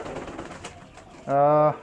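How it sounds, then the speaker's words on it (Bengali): Pigeons on a small pigeon farm, with a single loud, drawn-out coo rising near the end after a stretch of quieter, mixed background murmur. "এখন আপনাদেরকে দেখাবো আমার ফার্মের যে কবুতরগুলো আছে"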